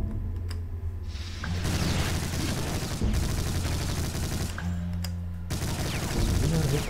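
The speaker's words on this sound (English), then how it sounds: "Shooting." Gunfire in the shooter game Brutal Doom, dense rapid bursts and booming blasts that run in long stretches, broken by brief gaps, loud and close, with a voice talking in places.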